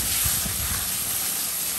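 A paste of onion, garlic and ginger frying in a pan makes a steady, close hiss of sizzling oil for a brief moment.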